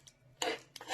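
A cracked egg stirred with a utensil over minced meat in a bowl, giving two brief raspy scraping strokes after a faint tap, close and quiet, with no voices.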